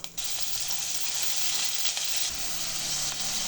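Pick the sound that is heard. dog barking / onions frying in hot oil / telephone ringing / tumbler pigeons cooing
onions frying in hot oil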